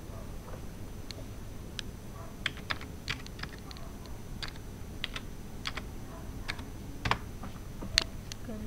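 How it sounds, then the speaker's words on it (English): Quick, irregular clicking of keys as a password is typed on a computer keyboard, soft close taps scattered over several seconds against a faint background hum. "let me just type my password here"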